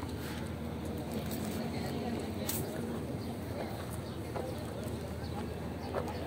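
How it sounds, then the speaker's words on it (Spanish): Hoof clops from a donkey or horse at an outdoor livestock market amid steady crowd noise and scattered chatter, with people talking throughout. "ya de este lado, pues ahí va un donkey macho"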